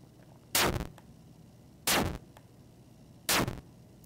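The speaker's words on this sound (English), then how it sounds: "You need a short sound for the explosion." Three short synthesized explosion bursts, each a sharp broadband blast decaying over about a quarter second, evenly spaced about 1.4 seconds apart with quiet gaps between.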